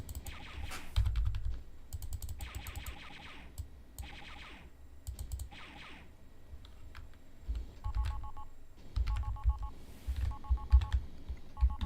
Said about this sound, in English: I don't know what that phone call sound is